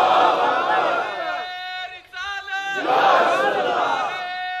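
Large religious gathering roaring back in unison to a Takbir chant, two loud surges of massed voices separated by a brief quieter moment.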